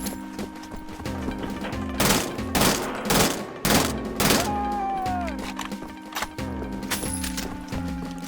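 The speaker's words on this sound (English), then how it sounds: "let me get my assault rifle out. We'll burst fire it." Short bursts of assault rifle fire from the first-person shooter Wolfenstein: The Old Blood, several loud cracking volleys over game music and ambience.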